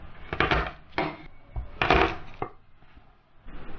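Knife chopping garlic on a cutting board in a home kitchen, a handful of firm, irregular thuds close by with brief pauses between strokes.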